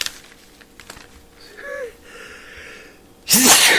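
A quiet gasping intake leads into a sudden loud sneeze near the end, close and explosive, after some faint clicks.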